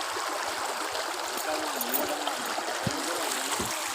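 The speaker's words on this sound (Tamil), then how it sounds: "சரி, புதிய ஏரிக்கு போகுது பாருங்க தண்ணி." Muddy rainwater from November rains rushes along a stream toward a new lake, making a steady, close, broadband wash of flowing water with no pauses.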